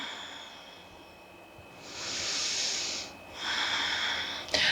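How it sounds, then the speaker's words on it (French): Long, audible breaths drawn and pushed out through the nose during a seated yoga twist, loud and close with a soft hissing edge, two full breaths and the start of a third, no voice. "Et 3 respirations."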